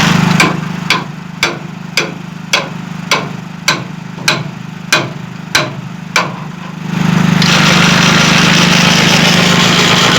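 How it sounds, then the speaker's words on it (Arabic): An engine-driven generator powering the lights at a farm well runs with a steady low hum, joined by a regular series of sharp knocks about every half second, then settles into a denser, louder continuous roar. "موتور اللي عاطي الضوء"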